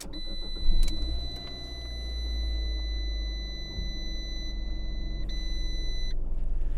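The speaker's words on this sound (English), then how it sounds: "There will be a little bit of buzzing for a couple seconds because it is low on gas" A 2015 Fiat 500 Pop starts with low fuel, a steady high-pitched warning tone sounding for several seconds with a brief break, over the engine's low idle rumble.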